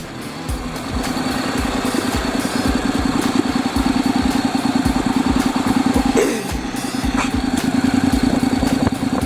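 A Honda DCT motorcycle sits in gear on its center stand, engine idling with a steady, rapid chugging pulse while the rear wheel spins, close and continuous, with a brief clink partway through.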